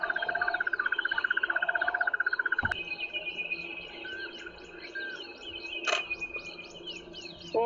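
Birds calling near a leopard on a safari drive, with fast repeated chirps and trills over an insect-like drone in the bush, moderately distant and without talk.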